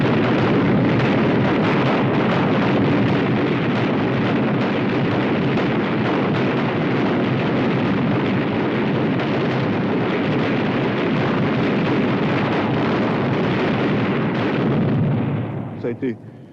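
A massive artillery barrage from some 2000 guns pounding German positions in Italy in May 1944, a dense, unbroken roar of overlapping explosions and rumbling detonations that stays loud throughout before cutting off abruptly at the end.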